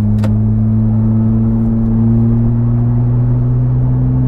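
From inside the cabin, a Porsche 911 GT3 of the 991.1 generation, exhaust valves held fully open, drones with a steady buzzy hum that creeps slightly up in pitch as the revs climb toward 2,500–3,000 RPM, loud and continuous.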